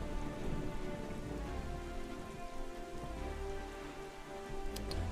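Stormy rain in The Legend of Zelda: The Wind Waker HD, a steady dense downpour pattering over a low rumbling wind bed, loud and continuous throughout with no voices.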